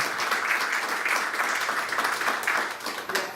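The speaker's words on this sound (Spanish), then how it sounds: "vamos a despedir a Laura con un fuerte aplauso" A conference audience gives a strong round of applause to farewell the speaker Laura, a thick continuous roar of many people clapping, steady and close, easing slightly near the end.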